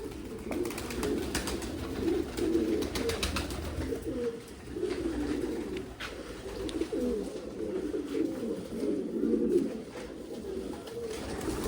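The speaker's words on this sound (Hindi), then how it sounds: "ये है हमारे सारे कबूतर।" Pigeons in a loft coo continuously in low, throaty, overlapping bursts, close by, with soft rustling and no speech.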